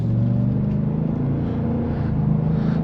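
A brand-new 2025 Ford F-350 Platinum Tremor pickup with a 7.3L V8 builds speed, its steady, low engine drone loud and close from inside the cab throughout.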